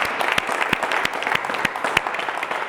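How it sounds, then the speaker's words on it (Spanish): A training-session audience gives a short burst of close, lively clapping of thank-you applause after an electrical cabinet maintenance course, many hands clapping loudly and unevenly for under three seconds. "Yo creo que les tenemos que hacer un aplauso de agradecimiento."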